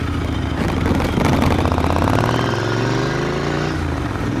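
Royal Enfield Interceptor 650 motorcycle engine running, a loud steady throbbing rumble that rises briefly then settles, with no voices over it.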